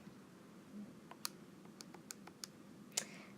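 Calculator keys pressed one at a time, a sparse series of about five or six soft, separate clicks over a quiet room background.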